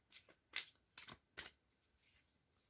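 Tarot cards are shuffled by hand in a few quick, soft riffling bursts close to the listener, spaced about half a second apart and then fading to quiet.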